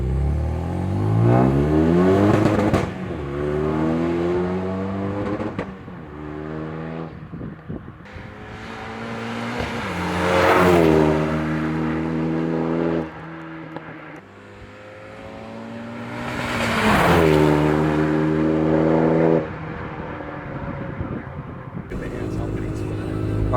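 A Renault Megane 275 RS engine revs hard while driving, with loud rising sweeps that break at each gear change and repeat several times, heard from inside the car.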